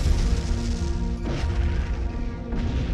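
Aerial bombs and naval gunfire from about 100 aircraft and a fleet pound a coastal fort, heard as heavy, muffled booms and crashes layered over a continuous low rumble, with sharper bursts standing out.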